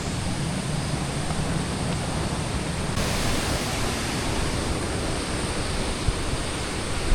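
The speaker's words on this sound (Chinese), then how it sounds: "瀑布哎。" A waterfall near a river at Takachiho in Kumamoto, Japan roars as a constant broadband rush of falling water that stays loud and unbroken throughout, with no voices.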